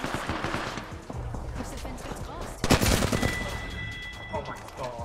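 Rifle gunfire in Apex Legends, a game firefight with dense bursts of shots and a louder crack of fire near the middle, mixed with background game noise and some voice activity.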